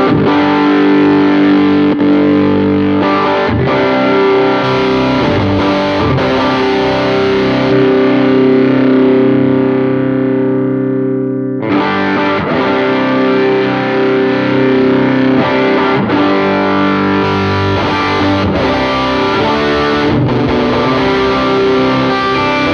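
An electric guitar plays through a Geneva AC30 amp model with the gain fully up, loud, crunchy distorted chords ringing and sustaining, briefly cutting off near the middle before strumming resumes, with no talking.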